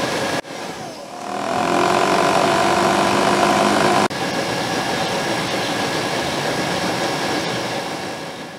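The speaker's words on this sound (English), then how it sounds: "The new blower motor runs much better than the old one" Newly fitted blower motor in a C4 Corvette runs as a steady, fairly loud whooshing whir of moving air, switching on near the start and continuing evenly with one brief click midway, no rattling.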